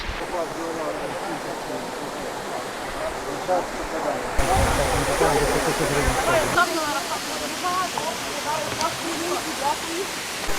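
A roaring waterfall, Nyrinetskyi waterfall in the Carpathians, pours steadily nearby, a dense continuous rush of water with voices talking faintly beneath it.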